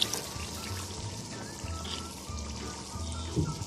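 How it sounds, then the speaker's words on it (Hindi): A glass of water pours into a pot of cooking aloo qeema, making a continuous close splash and trickle for several seconds with a brief clatter near the end. "और ये दूसरा गिलास डाल दूंगी मैं इसके अंदर।"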